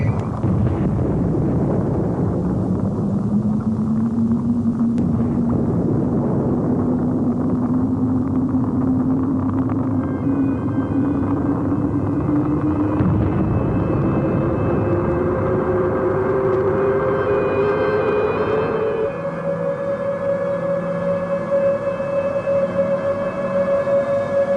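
A spacecraft's Dynacon thrust engages with a loud, continuous engine rumble and a tone that slowly climbs in pitch, then jumps higher near the end, sustained for over twenty seconds with no talking.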